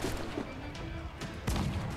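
Ship cannon fire in the pirate naval game Assassin's Creed IV, a couple of booming, crashing blasts over dense battle noise with a voice talking over it.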